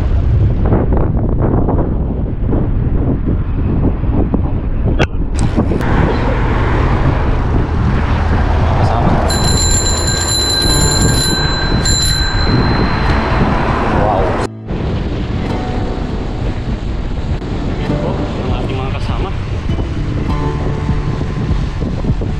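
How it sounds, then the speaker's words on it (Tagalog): Strong headwind buffets the microphone during a night bicycle ride along a seafront corniche, a loud continuous roaring rumble with gusty surges that briefly drops out, and speech is heard. "Medyo salubong sa hangin."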